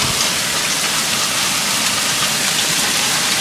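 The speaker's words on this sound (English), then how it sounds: "Now it's raining." Steady rain pours down during an Arkansas hail storm, a dense, loud, unbroken hiss close by with no voices.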